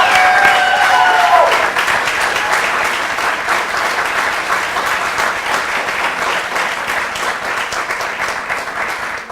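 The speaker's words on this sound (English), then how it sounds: "giant round of applause for all of our students" Sustained applause from a large audience at a keynote event, steady, dense clapping filling the whole stretch at high volume and tapering only slightly toward the end.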